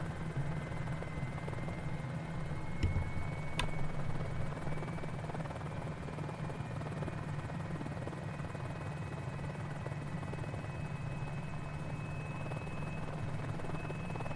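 A helicopter in a flight video game drones steadily and loudly throughout, its rotor buzz continuous and close, with a brief sharp click partway through and no talk.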